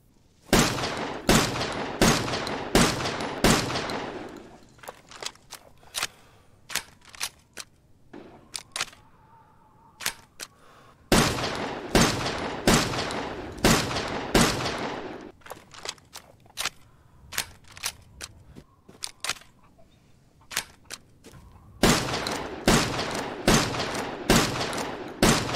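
Bursts of rapid shotgun fire from the upgraded SAG-12 in the video game Resident Evil Village, loud sharp blasts in quick rhythmic volleys separated by short pauses, with mechanical handling sounds in between.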